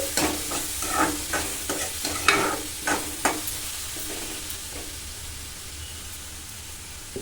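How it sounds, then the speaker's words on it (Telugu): A spoon scrapes and stirs cucumber chutney cooking in a pan, in a run of rhythmic strokes over a soft steady sizzle, then the stirring fades and only a gentle sizzle remains. "మధ్య మధ్యలో ఇలా మూత తీసి కలుపుతూ ఉండండి."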